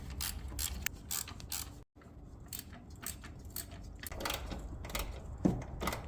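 A floor jack being raised under the transmission of an Acura Integra during a motor mount job, giving a continuous run of mechanical clicks, creaks and ratcheting close up, with one brief silent gap.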